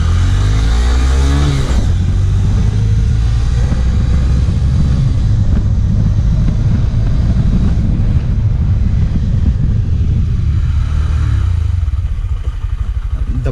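A Honda Shine BS6 motorcycle pulls away from first gear and accelerates up through the gears, its engine note rising and dropping with each shift under steady, loud wind buffeting at close range.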